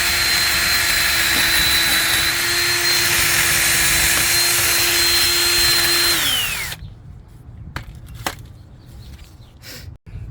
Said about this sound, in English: 2 minutes worth of cleaning with that little wire wheel